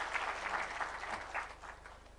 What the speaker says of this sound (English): Let's clap for them as we start this conversation.